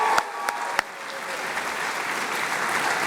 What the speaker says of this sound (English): those folks one big round of applause.